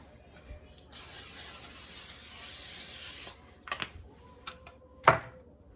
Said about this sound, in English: We'll put some more spray on.